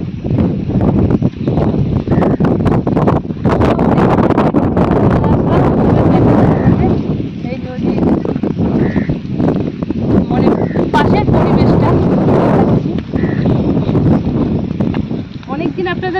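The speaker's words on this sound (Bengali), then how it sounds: "দেখুন আজকে প্রচুর হাওয়া দিয়েছে, কিরকম ভাবে ঢেউটা আসছে দেখুন, ঝাপটা মারছে পুরো এসে এসে" Strong gusts batter the microphone on the Matla river, roaring and buffeting almost without pause while waves slap the boat in rough surges, loud and close throughout.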